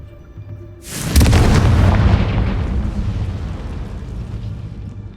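Blasting spell explosion in Hogwarts Legacy: a single loud, booming blast erupts about a second in, then rolls on as a long rumbling, crackling decay that slowly fades.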